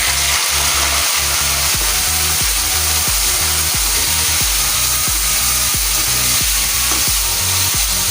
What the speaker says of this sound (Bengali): চিংড়ি মাছগুলো আমি এবার ভেজে নেব।